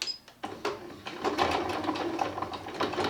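A sewing machine stitches quilt fabric while backing up to start a seam, giving a quick, even mechanical clatter of needle strokes at close range after a brief pause at the start.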